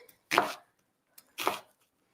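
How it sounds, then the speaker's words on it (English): An onion roughly chopped with a knife on a board, two separate close chops with a pause between, no talking. "we're going to chop an onion"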